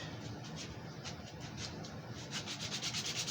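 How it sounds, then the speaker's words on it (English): Hand sanding of a carved wooden shepherd and lambs figure with roughly 80 grit sandpaper gives a steady, close, rasping rub with rhythmic back-and-forth strokes that quicken toward the end, with no talking. "you kind of go down from one grit of sandpaper to the next"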